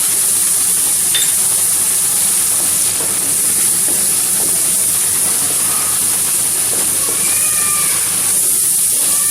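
Chili powder, turmeric, coriander powder and salt frying in oil for daal mash make a loud, constant sizzle and hiss, with faint stirring clinks throughout and no speech.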